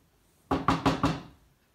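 Four quick, solid knocks on a wooden door, evenly spaced and close, followed by silence.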